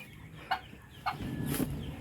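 Chickens in a brooding area with sitting hens and newly hatched chicks give a few soft clucks and short calls, faint and close, with low background rustle and no talking.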